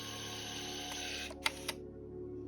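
A small compact Olympus point-and-shoot camera lens zoom motor whirs steadily for about a second and a half, then stops with a couple of light mechanical clicks. The surroundings are otherwise quiet.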